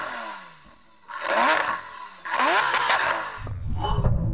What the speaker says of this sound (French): Je vais donc demander à Mark de faire tourner sa Lamborghini.